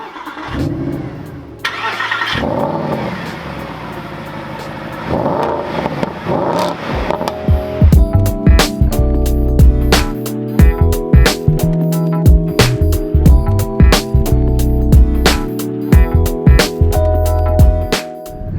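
A Mercedes-Benz SLS AMG supercar's engine cranks and fires, then idles before the car drives off with repeated loud revs and gear changes, close and dominant, with no talking.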